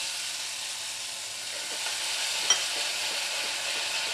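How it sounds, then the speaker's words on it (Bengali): Ghugni masala with a little tomato ketchup and water being sautéed in a pan, a steady close sizzle with faint stirring scrapes running throughout, no voices. "একটু ভালো করে কষিয়ে নিই।"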